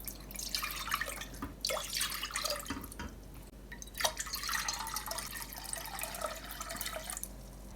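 Water runs and drips into a cooking pan being readied for Kashmiri pink tea, a close, steady splashing trickle with irregular drip accents over about eight seconds, no talking.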